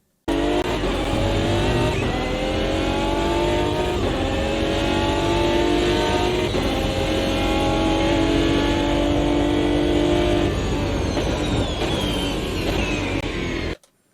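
Racing car engine in Automobilista 2 screams loudly through repeated upshifts and high revs, with rising harmonic sweeps, occasional tire squeal, and a constant close, aggressive drone that cuts off abruptly at the end.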